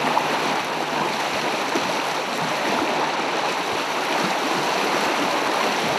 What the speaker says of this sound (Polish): Wiosenne wody stopniejących śniegów płyną rzeką Łękawką przez Gilowice